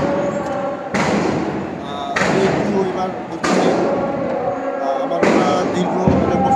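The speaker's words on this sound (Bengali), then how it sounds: "গুলির শব্দ, সাউন্ড গ্রেনেডের শব্দ শুনতে পাচ্ছেন" Gunshots and sound grenade blasts ring out at a street protest in Mirpur, four sharp, loud booming reports spaced about a second or more apart, each with a ringing decay, amid crowd noise and voices.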